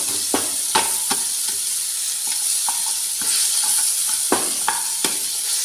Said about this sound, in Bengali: মাথাটা প্রায় ভাজা হয়ে এসছে